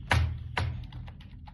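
Two separate key taps on a computer keyboard while a vehicle number is entered into an online road-tax form for a taxi, each sharp and close, about half a second apart, followed by faint softer clicks.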